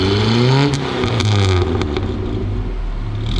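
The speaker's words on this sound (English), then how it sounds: "So right now we are inside the Contessa, and you can hear the exhaust a little bit, I guess." Exhaust of an HM Contessa, an Indian muscle car, heard from inside the cabin as a brief rising rev then a steady muffled rumble, moderately loud.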